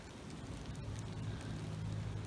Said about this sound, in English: About dang time, it's raining.